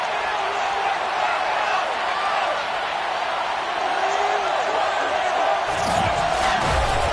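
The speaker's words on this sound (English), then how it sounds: "a moment ago they entered to the delight of this sold-out crowd" A sold-out Buffalo football stadium crowd roaring as the Bills take the field to face the New York Jets, a dense continuous wall of cheering from a huge crowd, steady and loud throughout.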